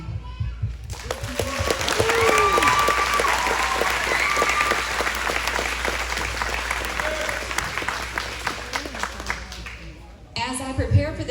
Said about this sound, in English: Please cheer them on.